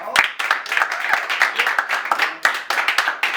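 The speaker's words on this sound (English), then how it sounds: "Give a round of applause for J.O. Weston." A small audience claps for J.O. Weston, distinct individual hand claps in an uneven, close-up patter with sharp transients, some voices mingled in among them.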